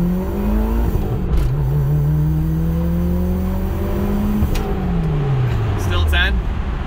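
Turbocharged Mitsubishi Eclipse GSX, an AWD car with about 250,000 miles, pulling hard under boost with a rising engine drone through the gears. A voice is heard over the engine.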